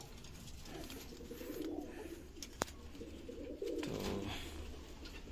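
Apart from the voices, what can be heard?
pigeons cooing in a pigeon loft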